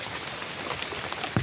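Steady rain falls outdoors, a soft even hiss of drops at moderate level with a brief thud near the end.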